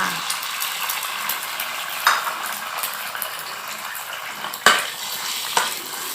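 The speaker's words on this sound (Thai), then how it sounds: "เสร็จแล้วเราก็เอาไข่ใส่ลงไปจ้า" Eggs go into a hot pan for a simple breakfast and are stirred, giving a steady frying sizzle with a few sharp utensil scrapes against the pan, fairly close and with no talking.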